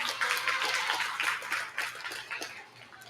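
An audience at a Nubian goat show applauds the champion does with steady, fairly faint clapping in a large hall, with a low hum underneath.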